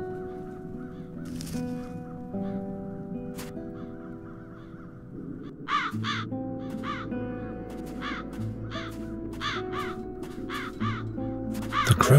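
Crows in The Dark Eye: Chains of Satinav give repeated harsh caws in short bursts, several birds calling over a soft musical backdrop, growing busier in the second half.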